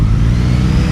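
A 2018 Triumph Street Triple R 765 motorcycle's three-cylinder engine hums in a steady, loud, close low-pitched drone with a rough throb, holding a constant rev through the brief moment without talking.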